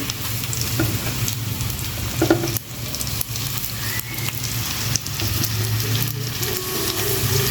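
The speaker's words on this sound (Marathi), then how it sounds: "हे जे पीसेस आहेत ते छान मी असं झाडून घेते आणि मग इकडे तेलात सोडते" Coated rawas fish pieces frying in hot oil, a loud continuous crackling sizzle close by with brief stirring scrapes and small clinks, no one talking.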